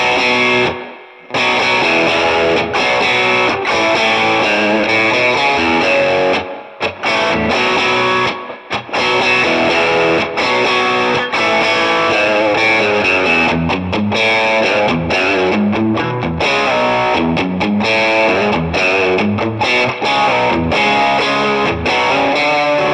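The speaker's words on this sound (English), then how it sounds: "let's pile on some distortion now and see how heavy we can go with the bridge pickup" Electric guitar on its bridge pickup, played through heavy distortion, rings out loud and dense in sustained chords and riffs with a few brief pauses, continuous for over twenty seconds with no talking.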